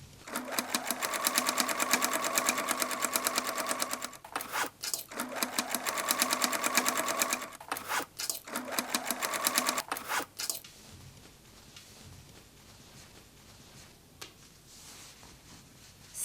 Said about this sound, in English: Sew side and bottom edges of bag panels.